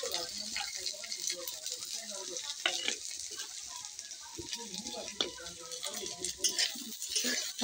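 Dried chillies, chopped garlic and chopped ginger fry with cumin in a pan for a soybean dish, giving a soft continuous sizzle with stirring scrapes, while someone talks over it.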